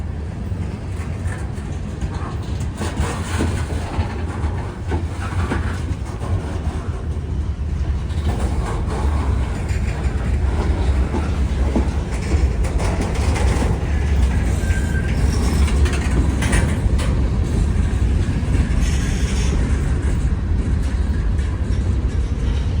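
A Norfolk Southern freight train slowing into a rail work zone in the rain on wet, rusty rails, its cars rumbling steadily past up close with a continuous rolling roar and faint clicks.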